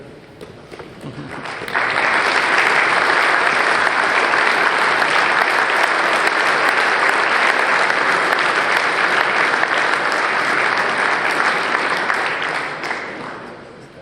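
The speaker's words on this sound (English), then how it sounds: "let us recognize you, and give you the applause that you deserve" An audience at a Scout of the Year ceremony breaks into loud, sustained applause for past recipients, swelling quickly and holding as a dense roar of clapping before tapering off near the end.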